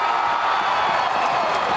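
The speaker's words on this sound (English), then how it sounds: "And the big cheer went up." Roar of a stadium crowd cheering at a college football game between SIU and UMass, a broad, sustained wash of distant voices and applause with no clear break.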